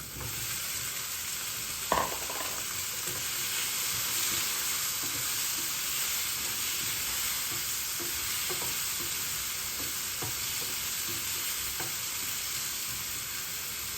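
White pumpkin pieces fry in a pan with a constant close sizzle, broken by a sharp knock near the start and intermittent scraping stirs, with no talking.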